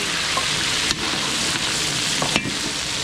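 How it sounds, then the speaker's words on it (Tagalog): Garlic and onion frying hard in hot oil in a pan, a loud, steady sizzle with a few brief stirring scrapes and no voices. "papapulayin ko lang yung bawang sibuyas"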